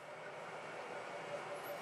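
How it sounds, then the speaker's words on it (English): A model railroad Erie coal train runs on an upper level of a layout, giving a steady, even rolling rumble with no distinct clicks, heard close and alone. "on the 4th level, it's an Erie coal train."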